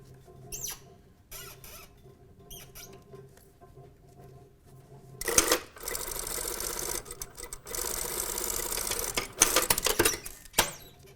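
A domestic sewing machine stitches a seam on a fashion toile, starting with short stop-start bursts and clicks, then running in longer steady whirring stretches, heard close and with no talk.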